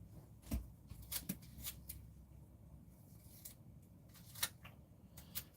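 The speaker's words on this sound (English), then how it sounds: "These scissors, I tell you." Several sharp snipping clicks from scissors close by, irregularly spaced with short quiet gaps between cuts.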